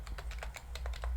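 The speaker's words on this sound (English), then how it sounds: "I'll go ahead and type in my admin email as vmsman" Quick, close keystrokes on a computer keyboard while entering an email address, about eight crisp clicks in a steady run over a low background hum.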